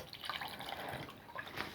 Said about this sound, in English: now I'm going to add the water to the mix.